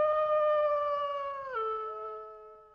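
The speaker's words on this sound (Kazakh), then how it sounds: "Бұл қасқырдың дауысы." A wolf howls in a single long, clear, tonal cry that holds steady, then drops in pitch partway through and fades out, loud and close with no other sounds around it.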